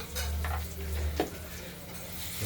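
A fish head, seasoned with turmeric and salt, is turned in a frying pan, with faint sizzling beneath quiet scraping and clinking from the stirring utensil, all heard close and soft.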